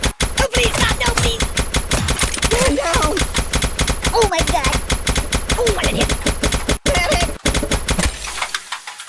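Rapid machine-gun fire rattles nonstop at the ragdoll target in the mobile game Kick the Buddy, loud and dense with brief gaps, while the game character's voice cries out over the shots.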